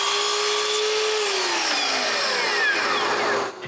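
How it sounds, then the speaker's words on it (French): A power saw makes a 45-degree cut through a piece of wood, its loud steady whine running alone for a few seconds, then dropping in pitch and cutting off at the end. "Je commence par faire une coupe à 45 degrés."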